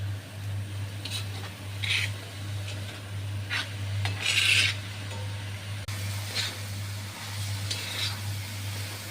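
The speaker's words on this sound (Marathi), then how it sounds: "छान भाजी अशी परतून घ्यायची." Fenugreek greens for methi bhaji being sautéed and turned in a pan, a steady close scraping and stirring with soft rasping strokes over a constant low hum, no voices.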